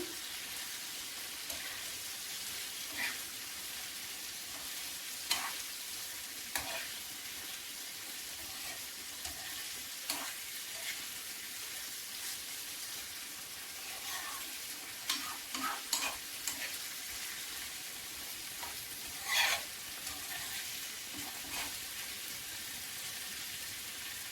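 Boiled fish stirred and mixed into softened tomatoes in a pan, a soft steady sizzle that runs throughout, broken by intermittent scraping and clinking stirs.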